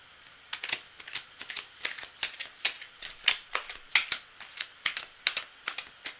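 Playing cards are shuffled for a live card reading, a long run of crisp riffling bursts coming in quick irregular waves, close and fairly loud, with no talking.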